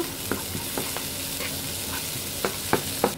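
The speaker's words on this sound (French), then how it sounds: "Donc j'ajoute les échalotes, donc un petit peu seulement, et le basilic. Et on va faire revenir." Shallots and basil sautéing in a pan make a soft steady sizzle, broken by several sharp scrapes and taps of a utensil stirring at irregular intervals, with no talking.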